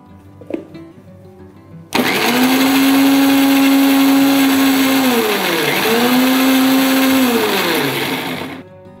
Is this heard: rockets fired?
no